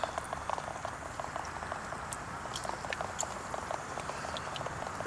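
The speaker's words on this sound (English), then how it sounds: "Give it a little whisk." An egg is whisked into a cheese sauce, making a quiet, steady patter of rapid light ticks and sloshes that carries on evenly throughout.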